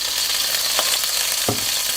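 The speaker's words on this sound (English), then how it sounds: "we're going to put in the onions and the shallot. Give that a nice little sear." Onions and shallot sear in two tablespoons of bacon fat over medium heat for bacon jam, giving a steady, close sizzle with a couple of brief stirring scrapes and no talking.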